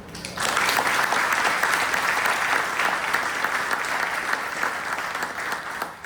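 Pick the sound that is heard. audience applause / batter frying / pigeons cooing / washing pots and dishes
audience applause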